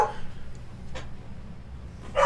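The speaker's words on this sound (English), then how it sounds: "If this dog would never stop barking." A dog barks a few times in short sharp bursts, somewhat distant, under a low background hum and faint voice.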